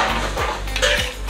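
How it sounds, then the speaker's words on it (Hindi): Desi chicken biryani being fried in a pot at a roadside dhaba in Koraput, with repeated metal scraping and clattering of a ladle against the pot, loud and close in quick strokes over a steady low hum. "बिरयानी फ्राई"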